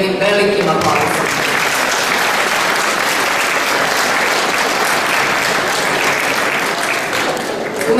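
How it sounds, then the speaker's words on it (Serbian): A large audience at the Olariada 2016 festival gives a big round of applause, steady and loud throughout, with no pause. "ja vas molim da ih pozdravite jednim velikim aplauzom"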